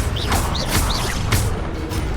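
Accio summoning spell cast in Hogwarts Legacy, heard as a series of sharp whooshing magical bursts with rising and falling chirps over a constant low game rumble.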